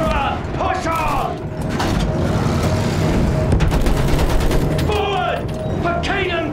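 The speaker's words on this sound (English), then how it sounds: "Use that machine gun! Mow them down!" Battlefield 1 video game battle with sustained machine gun fire and rattling bursts under dense mechanical clatter, with shouted voices over the din throughout.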